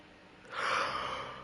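A single drawn-out yawn from a sleepy person streaming a game, a breathy swell that rises and then fades over about a second, close and fairly soft.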